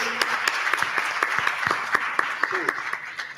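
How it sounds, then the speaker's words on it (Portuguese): Applause from an audience after a startup fundraising panel at a campus event, a crowd clapping steadily with a few loud, distinct claps standing out near the front, while a voice speaks briefly over it. "Salva de palmas, senhoras e senhores"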